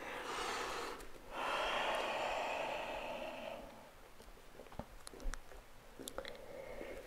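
Breath exhaled during a yoga forward fold, a soft close airy rush lasting a couple of seconds, followed by quieter faint breathing and small mouth or movement sounds.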